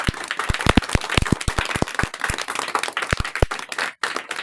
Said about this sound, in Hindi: खड़े हो जाइए, ताली बजाइए।